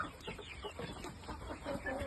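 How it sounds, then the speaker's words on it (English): Young shamo game fowl stags cluck in a pen, a scatter of short, moderately faint clucks and rustles continuing throughout. "birds in there, nice young stags."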